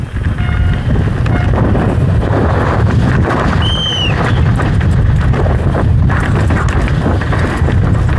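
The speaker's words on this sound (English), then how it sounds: "It's pretty windy." Strong wind buffets the microphone in a loud, continuous roar, with a faint high squeal briefly cutting through midway.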